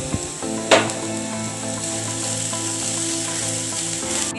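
Chopped green chillies sizzle in hot oil with onion and ginger for a potato masala bonda filling, a steady close frying hiss with a brief clatter early on as they drop in.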